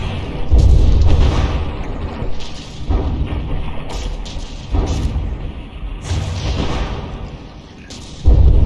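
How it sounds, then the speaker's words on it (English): Heavy booms from warship guns in a From the Depths battleship battle roll out repeatedly, with deep thumping blasts at the start and end over a dense, continuous roar of combat. "that forward gun just fired."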